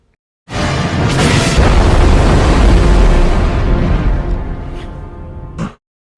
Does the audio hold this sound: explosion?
yes